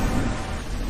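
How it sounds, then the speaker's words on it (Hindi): Heavy torrential downpour as a cartoon sound effect, a dense steady hiss of rain filling the whole short moment with no voices. "अरे ये तो बहुत तेज मूसलाधार बारिश शुरू हो गई।"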